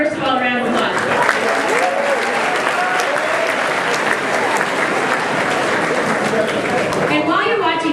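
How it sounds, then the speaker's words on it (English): Large audience at a student chapter state event gives a continuous, even round of applause, many hands clapping at full strength with voices faintly heard at the start and end. "let's give Corona Del Mar, first of all, a round of applause"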